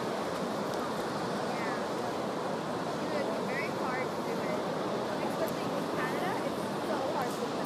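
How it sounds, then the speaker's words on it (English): Hornblower Niagara Cruises boat on the Voyage to the Falls, sailing near Niagara Falls from the Canadian side, heard as a constant, loud wash of water and wind roar that fills the scene, with faint voices mixed in. "So we sail from the Canadian side of Niagara Falls with Hornblower Niagara Cruises."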